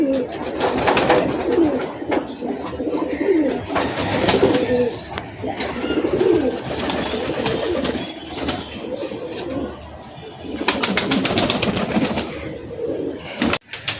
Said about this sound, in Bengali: এই কবুতরটা।